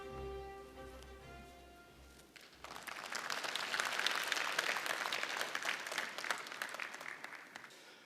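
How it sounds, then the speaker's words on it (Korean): Audience applause at a 2022 regional forum in Korea, welcoming the Gyeongnam governor to the stage. It rises after a brief tonal lead-in and holds as a full, steady patter of many hands for several seconds. "큰 박수로 환영해 주십시오."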